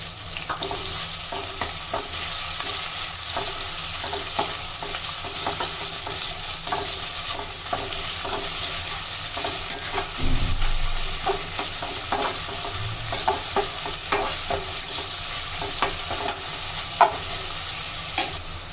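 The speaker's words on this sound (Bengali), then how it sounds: "তেল গরম হয়ে এলে এতে আমরা দিয়ে দেব পেঁয়াজ কুচি" Chopped onion fries in hot soybean oil, a loud, steady, close sizzle with frequent crackles and occasional stirring knocks throughout.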